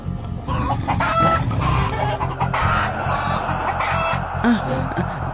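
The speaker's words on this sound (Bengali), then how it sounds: "মুরগিগুলো এরকম ভাবে ডাকছে কেন?" Chickens cluck and squawk close by, a busy, agitated chorus of overlapping calls that continues throughout.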